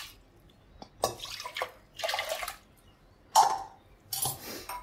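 Water poured into a pressure cooker while preparing sambar, arriving in four short splashy bursts with quiet pauses between them, close by and fairly soft.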